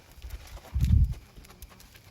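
Horse hooves clip-clop once during a riding lesson, a short muffled thud cluster near the middle over quiet background.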